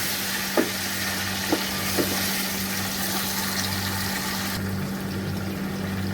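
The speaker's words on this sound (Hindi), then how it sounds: "चिकन डालेंगे, चिकन को थोड़ी देर के लिए भूनेंगे।" Chicken pieces sizzling and frying in a hot pan, a steady broadband hiss with a low hum beneath and a few brief stirring clinks, no talking.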